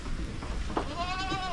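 Goats bleating in a farm pen while waiting for feed, a loud nearby wavering bleat rising in the second half over a background of shuffling and other animal noise.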